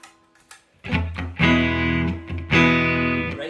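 An electric guitar played through a univibe effect into a Fender Twin Reverb amp, with a few picked notes and then two loud, sustained, pulsing chords standing alone without speech.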